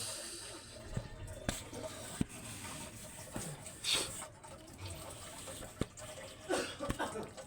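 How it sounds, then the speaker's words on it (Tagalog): Dogs being bathed: water splashes and sprays in bursts with hiss, scattered thumps and knocks of movement, faint murmured voices in the background. "Pagpapaligo natin ng mga aso guys."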